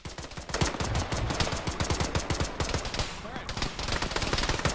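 Video game gunfire aimed at a UAZ with a gunner: loud, rapid automatic bursts crack in fast rhythmic volleys close by, with a brief lull midway before the firing picks up again.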